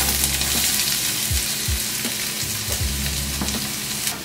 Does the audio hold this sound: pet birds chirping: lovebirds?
no